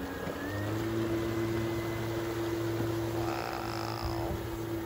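An electric kayak motor runs at full throttle on the water, a steady droning whine with a constant tonal hum that stays even and close throughout.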